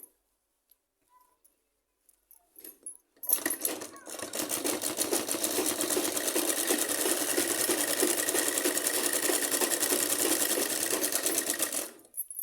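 Sewing machine stitching a salwar starts after a few quiet seconds with faint clicks, then runs in one steady, rapid rattle for about nine seconds before stopping.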